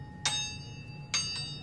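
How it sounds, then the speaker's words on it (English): A small handheld bell is struck twice in a classroom wave lab, each hit a bright ringing tone that decays, the second strike followed by a lighter tap, over a faint steady hum. "hit the bell again"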